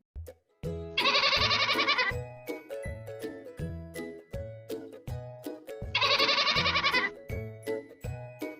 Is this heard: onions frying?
no